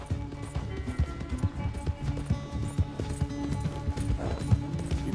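A horse galloping in Red Dead Redemption 2, hooves clip-clopping in a quick, steady rhythm close by, with a faint whinny-like tone and no talking over it.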